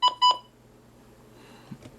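Two short, loud electronic beeps come in quick succession from the buttons of a Midland WR-100 weather radio, followed by faint background noise and a couple of soft clicks.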